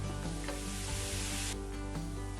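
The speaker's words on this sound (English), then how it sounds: "the tomato paste, and stir" Tomato paste stirred into leeks frying in a pan with caraway, thyme and raisins, giving a steady close sizzle with soft scraping stirs throughout.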